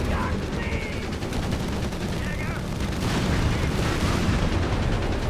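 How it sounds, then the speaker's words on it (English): Artillery bombardment in the real-time strategy game Company of Heroes 3, a dense, continuous rumble of shelling and gunfire with overlapping booms and crackling bursts, loud and sustained throughout. "Got the Jaegers just getting bombarded."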